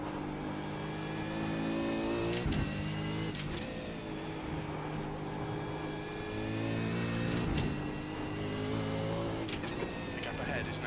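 V8 Supercar engines roar through a race at Oran Park in the iRacing simulator, a steady loud engine drone with rising and falling revs and gear shifts, with a voice talking over it.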